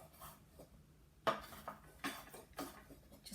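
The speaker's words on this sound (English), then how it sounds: "Okay, so just chop up the sage." A knife chops fresh sage leaves on a board, giving a few sharp, irregular knocks with quieter taps between them, close by and moderately loud, with no talking.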